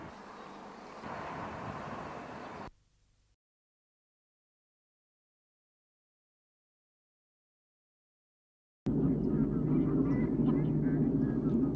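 Wild geese honking at dawn in minus 15 degree cold: a dense chorus of honks and calls in two stretches separated by a long silence, with a voice speaking over part of it.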